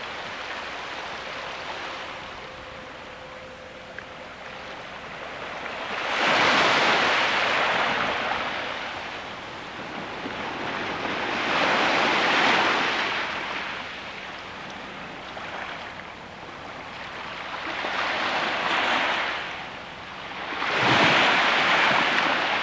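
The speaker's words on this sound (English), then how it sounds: "I'll just listen to the waves." Ocean waves roll onto the shore at Kodiak, Alaska, in slow repeated surges of roaring wash, each swell building and fading over several seconds, steady and fairly loud with no voices.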